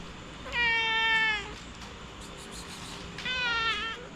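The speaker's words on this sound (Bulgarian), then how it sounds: "Това е нашата котка. Тайландска котка, тя е мелка на Тайланда." A Thai cat meows twice, each call long, drawn out and close, with a short pause between, heard alone against a quiet room.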